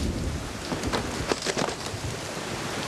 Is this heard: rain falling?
yes